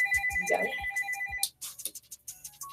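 A telephone ringtone sounds in a radio station studio during a call-in show, repeating electronic rings loud and close before breaking off into sparse clicks and handling noise.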